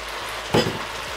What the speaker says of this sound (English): We are going to add our shrimp into our pancit.